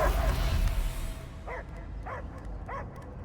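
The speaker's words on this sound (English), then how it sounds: "I hear only barking." A dog barks a few times, short yips spaced apart, inside the Guardians of the Galaxy video game, following a stretch of dense ambient noise, fairly faint and with no talk over it.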